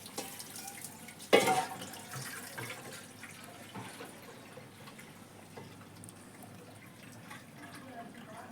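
Water pours from a broken tap into a container, a steady close hiss with a brief louder splash near the start.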